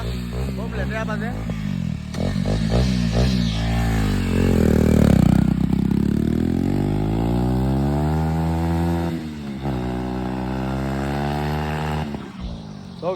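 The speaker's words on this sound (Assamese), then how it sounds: "ডিউক 250 BS4 RPM ধুনীয়া বাজে" A Duke 250 BS4 motorcycle engine revs up close and loud, building to a sustained high-pitched surge and then settling back toward a rough, steady idle.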